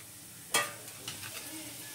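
Spices, chili, turmeric and ground peanut powder drop into hot oil for a spicy drumstick-pod curry, giving a sudden soft sizzling hiss that settles into a faint crackle with light stirring.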